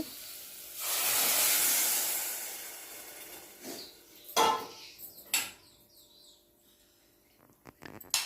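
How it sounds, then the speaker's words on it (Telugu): Soaked tamarind juice hits a hot pan with a loud, hissing sizzle that swells for a couple of seconds and then dies down, followed by a few sharp clanks and scrapes of a utensil. "నానబెట్టిన చింతపండు రసం ఇందులో పోసుకోవాలి"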